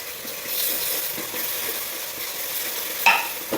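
Ginger stirred and sautéing in hot oil in a pan, added after garlic paste while cooking a Dindigul mutton biryani; a steady close sizzle with scraping stirs, a sharper clatter near the end.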